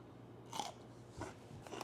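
A pickle is bitten and crunched: a crisp bite, then two more crunchy chews, close and fairly quiet. No one talks.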